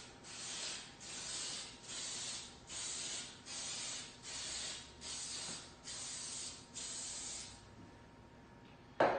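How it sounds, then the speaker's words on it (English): Vegetable oil cooking spray hisses onto muffin tins in eight evenly spaced short bursts, each a close, breathy spray about half a second long, followed by a brief clunk at the end. "now we're going to spray our muffin tins with vegetable spray"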